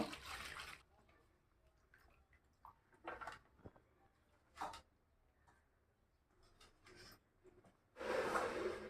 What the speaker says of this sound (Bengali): এখন সবজিটা আমি ভালো করে ধুয়ে নেব।